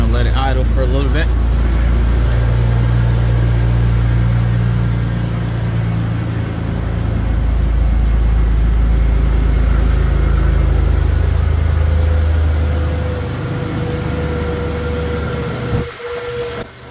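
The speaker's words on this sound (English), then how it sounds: "I'll let it idle for a little bit." A 1996 Ford F-150 with the 4.9 inline-six idles steadily up close after an oil pan gasket replacement, a low continuous engine drone with a brief clatter at the start and a short knock near the end.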